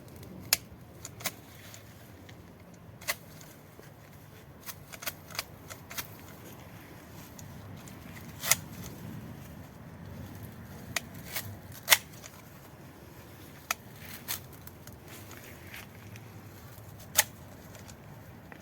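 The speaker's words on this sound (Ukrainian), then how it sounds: "Навіть можна використовувати ось такі великі садові ножиці." Large garden shears snipping bunched dried lavender stems: scattered sharp clicks and cuts at irregular intervals over quiet rustling, close and fairly faint.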